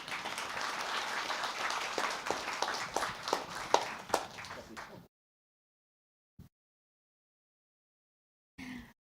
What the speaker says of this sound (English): Let's welcome our scientists with a big round of applause